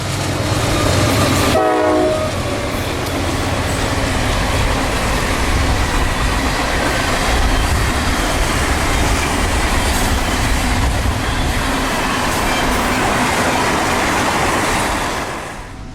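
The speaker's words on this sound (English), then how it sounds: "The empty hopper train has no trouble accelerating out of the siding to track speed." Empty hopper freight train pulling out of a siding, a brief horn blast near the start followed by steady loud rumble and clatter of wheels and cars rolling past, fading slightly at the end.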